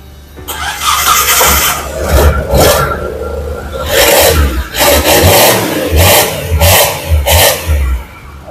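A Futura 92 pickup engine with a noisy aftermarket exhaust runs and is revved repeatedly, loud rising bursts of revving separated by brief idle dips, close up and with no talking.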